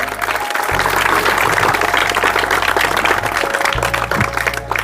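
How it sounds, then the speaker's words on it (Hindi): An audience at a ceremony honouring students for strong state board exam results bursts into loud, sustained applause, a continuous dense clapping with no voices over it. "तो एक बार पूरे इन छात्रों को जोरदार तालियां"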